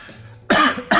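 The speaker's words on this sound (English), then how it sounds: "Why are you always coughing?" Two sharp, loud coughs from a person eating very spicy food, the first a longer burst and the second a quick one near the end, breaking a quiet, low background.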